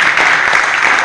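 An audience at a kavi sammelan poetry gathering claps, a dense, loud burst of applause lasting about a second.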